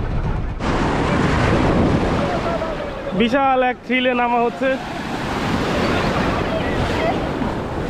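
Ocean waves wash steadily onto the beach at Sonadia Island, with wind buffeting the microphone, while someone speaks briefly over the surf.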